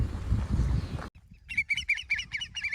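A pair of curlews calls on a farm near a dugout pond, a run of about six loud, clear, rising whistled notes in quick rhythm after a burst of rumbling handling noise.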